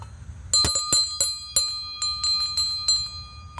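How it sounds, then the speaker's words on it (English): A small metal bell mounted on a cemetery headstone rings in a series of bright, clear strikes, about eight in irregular rhythm, close by and ringing out between hits with no talking. "it looks like there's a bell ringer up here, if you call it a bell ringer. At least you can call it a bell"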